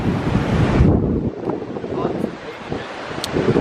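Strong wind buffets the microphone in heavy low rumbling gusts at Currumbin Rocky Shores on the coast, with people talking faintly underneath.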